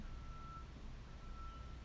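Faint steady electronic beeping from a truck reversing outdoors, a thin repeating tone sitting over a low rumbling background hum, distant and unobtrusive.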